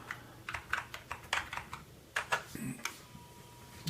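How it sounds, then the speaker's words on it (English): Keys clack on a Sinclair QL computer keyboard as a command is typed, a run of quick irregular taps, fairly close and quiet, with a brief pause near the end. "So I'm just going to type DOSShell"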